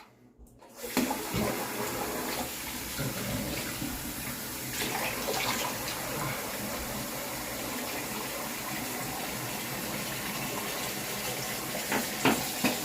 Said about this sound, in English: I'm going to go ahead and rinse now